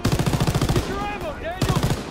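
Rapid automatic gunfire from the video game Call of Duty WWII rattles in a fast burst, pauses briefly, then resumes, loud and close.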